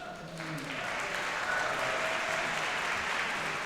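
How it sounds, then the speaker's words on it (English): An audience applauds the Moldova Ballet Academy at a Martin Luther King Jr. Day tribute event, a steady, dense wash of clapping that holds at an even level throughout. "Big round of applause for the Moldova Ballet Academy."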